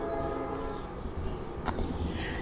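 A train approaches with a low steady rumble and a faint sustained horn tone, with a brief louder clatter partway through.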